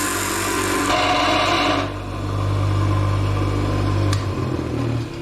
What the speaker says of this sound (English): we're going to grind it away until we find it